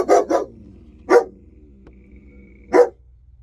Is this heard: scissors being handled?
no